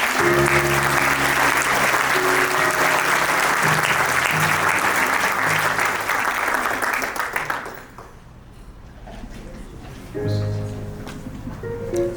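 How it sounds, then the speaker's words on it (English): An audience at a hall of fame ceremony gives a coach a big, loud round of applause over background music, the clapping thinning out after about eight seconds as the music continues. "let's all give Coach Mack a big hand of applause"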